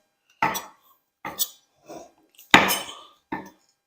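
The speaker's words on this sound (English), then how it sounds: "So we'll just take a knife and we'll slice the mushrooms." Washed mushrooms sliced with a kitchen knife on a board, five separate crisp chopping knocks at an uneven pace, close and clear against silence.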